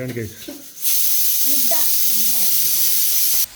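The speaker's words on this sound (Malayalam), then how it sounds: "നമ്മൾ കട്ട്ലേറ്റിനുള്ള ഉള്ളി വഴറ്റിക്കൊണ്ട് കാണും" Onions for cutlets sizzle and hiss steadily in a pan, a loud, continuous sound up close, with a voice talking over it.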